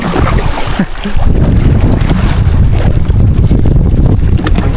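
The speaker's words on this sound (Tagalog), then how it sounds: "Medyo mahangin po ngayon mga ka-adventure" Strong wind buffets the microphone in a continuous roar aboard a small outrigger boat at sea in the Philippines, with rushing gusts and the wash of large waves.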